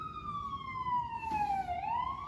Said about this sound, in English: We've got an ambulance.